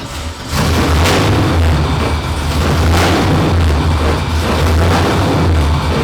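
An LSX V8 in a Nissan 370Z Formula Drift car fires up and settles into a loud, steady, deep rumble close by, with rough pulsing bursts throughout.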